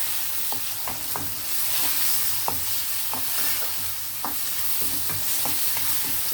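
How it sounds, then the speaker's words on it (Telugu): Chopped onions and tomatoes sizzle steadily in a hot pan, with a spoon scraping and stirring in bursts every second or so; continuous frying hiss throughout, no voices. "కొంచెం ఉల్లిపాయలు ఏగనిద్దామండి బ్రౌన్ కలర్ వచ్చేలాగా"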